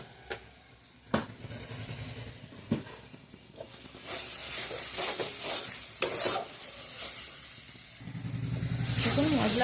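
Spice masala for a thin chicken curry being stir-fried in a pan: a steady sizzle and hiss broken by scraping spatula strokes and clinks, growing louder and fuller toward the end.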